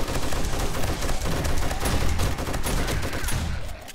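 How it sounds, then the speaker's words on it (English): A shotgun turret blasts away during a zombie horde night in 7 Days to Die, with dense, overlapping gunfire pounding continuously for several seconds and no voices. "I thought about replacing this shotgun turret with an SMG turret."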